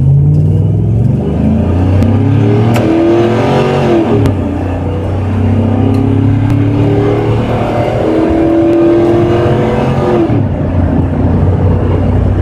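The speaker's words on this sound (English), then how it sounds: "Truck pulled strong, no hesitation, no misfire." A 2003 GMC Envoy truck with a 5.3 engine accelerates hard on an open road. The close, loud engine roar climbs in pitch, drops briefly at each gear shift, then climbs again and eases off near the end.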